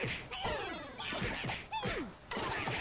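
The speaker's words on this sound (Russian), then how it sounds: "ты одним ударом сразу двоих вырубил" Punches in the side-scrolling game Dan the Man land with sharp cartoonish smacks and thwacks as two enemies are knocked out, punctuated by bright pinging and descending whooshing game effects, moderately quiet.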